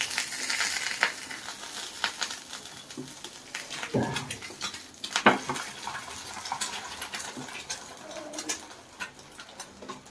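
Eggs sizzle and crackle in a hot pan with a steady, faint frying hiss and occasional utensil clinks, with no talking.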